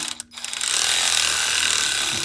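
A hand ratchet clicks briefly while tightening a bolt on a Polaris Ranger, a short burst of close mechanical ratcheting that is then covered by a loud, steady hiss.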